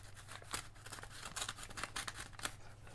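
An envelope is cut open with a cutter knife in a series of faint, close, crisp scraping and slicing strokes, arriving in short irregular bursts over a quiet background.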